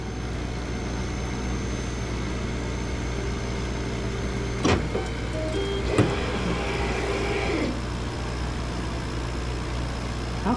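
A Monport Reno 65 Pro laser engraver with its fan running as a steady hum while the head travels to the far corner with a whirring motor, broken by a few faint clicks.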